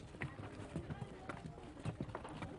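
Donkeys' hooves clip-clopping along the narrow streets of Lamu, a scattered run of hollow knocks at a walking pace, faint and close, with speech over them.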